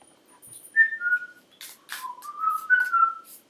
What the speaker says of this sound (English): not great with my whistling this morning